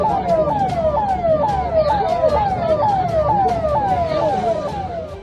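An ambulance siren from a political leader's convoy wails in a steady repeating yelp pattern, loud and close, with road traffic rumbling underneath.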